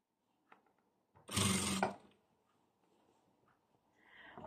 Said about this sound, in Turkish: bedenimin düz yüzüyle şu şekilde ikiye katlayarak yakamın bandını dikmeye başlıyorum